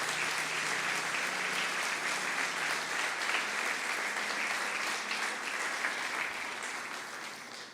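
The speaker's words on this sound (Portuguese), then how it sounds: "Vamos aplaudir Jesus e glorificar o seu nome." A church congregation applauds Jesus with sustained, full-room clapping that stays strong for most of its length before fading slightly near the end, with no voices standing out.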